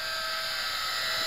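A Tarantula X6 drone circles overhead in the wind, giving off a steady high-pitched motor whine for a brief moment.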